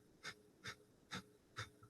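Kapalabhati breathing through the nose, four sharp hissing exhales in an even pumping rhythm roughly every 0.45 seconds, quiet and close with no talking.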